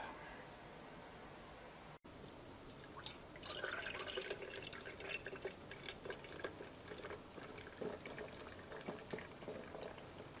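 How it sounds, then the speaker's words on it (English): Founders Breakfast Stout poured into a glass, a soft liquid glug and fizzing foam after a brief cut, with faint dripping and bubbling, quiet and close, no voices. "The pour on the Founder's Breakfast Stout."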